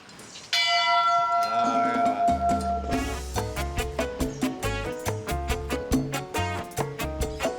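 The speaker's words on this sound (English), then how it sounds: "So when company would arrive, they would get announced by this bell here." A visitor bell at Hemingway's house in Havana rings with a loud, clear first strike and a long resonant tone, followed by a fast run of repeated strikes that carry on steadily to the end.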